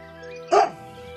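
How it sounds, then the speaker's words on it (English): A single sharp bark from a mean dog in a video game cuts briefly across a steady ambient music bed. "This mean dog won't let me take my things."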